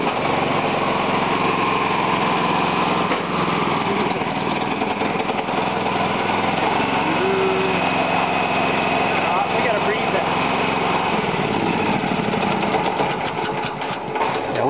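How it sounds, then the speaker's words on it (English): A small go-kart engine runs loudly and close by, a continuous high-pitched buzzing drone with slight fluctuations, while people talk over it. "We're gonna start the go-kart."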